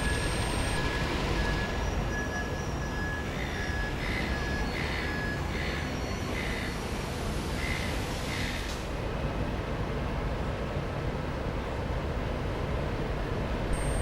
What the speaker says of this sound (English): The two diesel locos are seen coming back from Gosford.